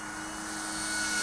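An Arrows RC Tecnam 2010 model airplane flying in calm, windless air gives a steady, loud motor drone with a thin whine on top. The drone swells gradually as the plane comes closer.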